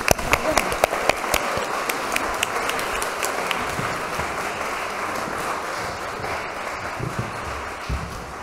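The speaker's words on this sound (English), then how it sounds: "A round of applause for the panelists." Steady applause from a seated audience at a panel discussion on Bristol and Manchester, dense clapping that carries on evenly throughout with a few sharper claps near the start.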